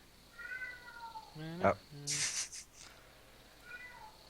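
A cat meows several times, a drawn-out call near the start, a sharper cry in the middle and another toward the end, fairly close, with a brief spoken exclamation.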